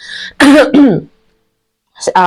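A few harsh coughs or throat-clearing bursts close by, followed by a silent pause and a short vocal sound at the end.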